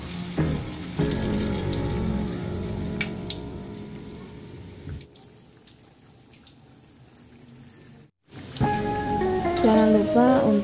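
Vegetable fritters (bakwan sayur) fry in hot oil with a steady, moderately loud sizzle, which drops off briefly before a louder crackle returns near the end.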